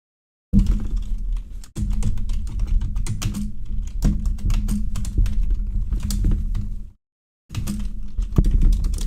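Rapid, close-up typing on a computer keyboard while playing City of Heroes on a PC, with steady clattering keystrokes that stop briefly and then resume at the same brisk pace.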